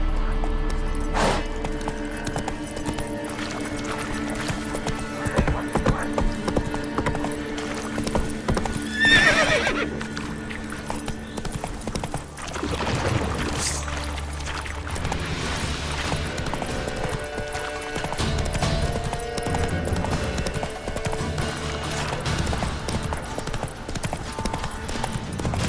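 Horse hooves clip-clop steadily in a fast gallop, with a few neighs and whinnies, in the video game The Witcher 3: Wild Hunt; hoofbeats stay close and continuous under game ambience and music.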